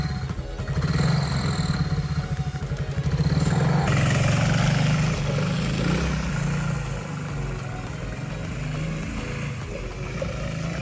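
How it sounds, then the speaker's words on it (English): A four-wheeler ATV engine idles with a mid-pitched clattering hum, then revs louder as the machine rolls away and settles back to a steadier drone, with no talk. "Channy wants to try this on his four-wheeler also. So, all right, roll on out, boy"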